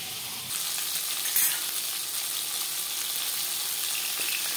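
Bhola fish sizzles steadily in hot oil in a pan, a continuous close, bright frying hiss with a brief louder crackle early on and no talking.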